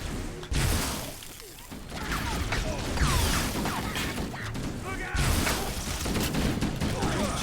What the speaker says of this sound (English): plasma bolts home in a little bit when they're charged up